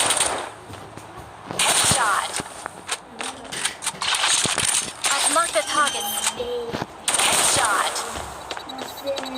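Vandal rifle fire in the video game Hyper Front comes as short bursts and single sharp shots separated by pauses, fairly close and loud, while a player talks over it.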